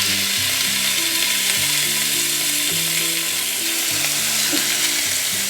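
Steak hitting a hot Ninja Foodi grill gives a steady, loud frying sizzle that fills the whole clip, with faint low mechanical clicks underneath and no talking.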